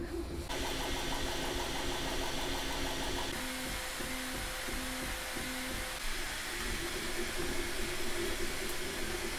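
A Bambu Lab A1 3D printer runs a print job, its stepper motors whirring steadily with repeating tonal pulses and shifting motor pitches, close and continuous with no talking.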